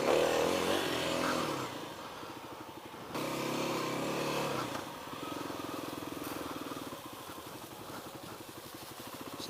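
A Kawasaki KLX300 dirt bike rides off road on an overgrown trail, its engine droning loudly and continuously, revving and easing back in waves close by, with no voices over it.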